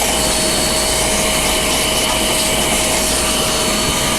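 A DataVac electric duster blasts air through a very dusty PC, a loud, steady, close whine and rush of air with a constant tone and no talk.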